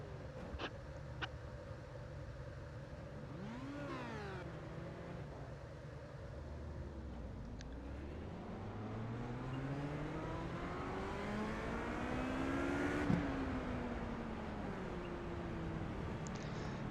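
Race cars idle and rev on the starting grid at Watkins Glen in an iRacing prototype and GT sim race, with several engines rising and falling in overlapping sweeps that swell louder toward the end.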